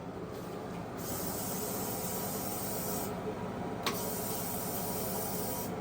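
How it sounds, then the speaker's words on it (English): A Lysol aerosol can sprays cleaner onto a toilet in a loud, close, continuous hiss that runs through nearly the whole stretch, with a brief sharp click partway through. "I'm just going to grab some cleaning supplies, grab a can of Lysol."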